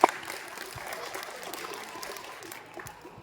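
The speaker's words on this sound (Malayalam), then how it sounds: "അവർക്കും നല്ലൊരു നല്ല ക്ലാപ്പ് കൊടുക്കാം." Applause for children at a church vacation Bible school event, a steady wash of clapping from a crowd that holds at a fairly even level for the whole stretch and eases slightly near the end.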